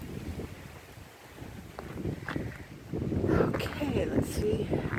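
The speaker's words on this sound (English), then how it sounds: "Yeah, it's pretty windy." Wind buffeting a microphone outdoors in a park near water, a steady low rumble that swells louder midway and keeps gusting to the end.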